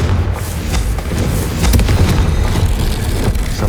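A Confringo fire spell goes off in the video game Hogwarts Legacy, a loud booming blast with crackling bursts that stays dense and forceful throughout, with no voices over it.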